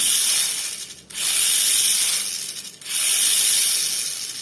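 Neo 3Danger Mini 4WD motor whirring at a high pitch, a rougher, coarser tone than a brass-axle car, running continuously close up with two brief dips in speed.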